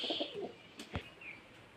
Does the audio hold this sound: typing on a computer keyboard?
no